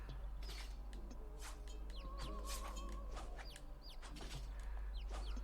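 Chickens clucking in the video game Black Knight Sword, several birds cackling and squawking in a busy barnyard cluster over a steady low hum, with occasional sharper calls rising above the continuous background.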